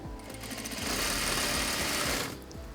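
A sewing machine runs steadily, stitching the neckline of a soccer uniform with white thread, a loud continuous mechanical whir that speeds up and then stops.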